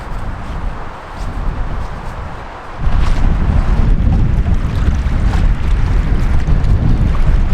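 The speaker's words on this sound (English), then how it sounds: "Really windy out." Strong wind at a lakeside campsite in the West Spanish Forest roars against the microphone, starting moderate and then surging into a loud, sustained rush partway through.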